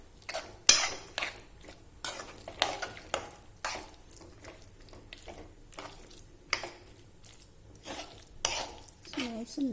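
A spoon scrapes and clinks against a pan while a drying apple filling for modaks is stirred, a series of short, quiet, irregular strokes heard up close.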